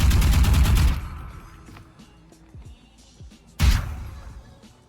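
Vandal rifle fire in the video game Valorant: a loud, dense burst lasting about a second, then quieter clicks and small impacts, and a second sharp burst near the end. No speech.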